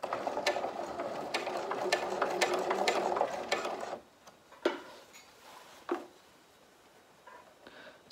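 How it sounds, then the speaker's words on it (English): A sewing machine stitches bias tape onto a V neckline in a dense mechanical whir that runs for about four seconds and then stops, followed by a few faint clicks and handling sounds in a quiet room. "just keep sewing until you get to the line of the V"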